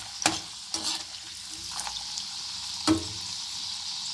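Urad dal and chana dal frying lightly in hot oil in a pan, giving a soft, steady sizzle broken by a few short, sharp scrapes of a spoon.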